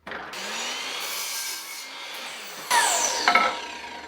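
Oak parquet board being hand-sawn, close rasping back-and-forth strokes of the saw through the wood, growing louder and scratchier as the cut finishes.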